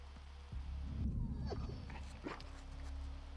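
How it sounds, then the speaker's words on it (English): A dog in The Last of Us Part II gives a few soft, close whimpering and yipping sounds over a low steady game ambience. "You got a dog walking away"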